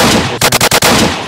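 PPSh submachine gun in the Roblox game Apocalypse Rising, a loud rapid burst of about five close shots amid continuous heavy game noise.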